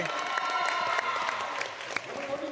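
A crowd in Green Bay claps and cheers, dense applause that runs throughout with a few sharper individual claps standing out, fading slightly toward the end.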